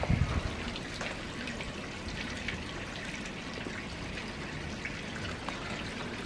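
Water flushing out of a radiator being drained for decorating, a steady close trickle and pour of liquid with scattered drips running continuously throughout.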